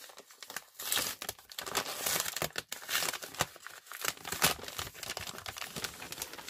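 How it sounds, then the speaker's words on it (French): A paper envelope being torn open and handled, with close crinkling and tearing rustles in irregular bursts throughout. "Elle m'a mis ça dans des enveloppes. Alors, je vais ouvrir la première."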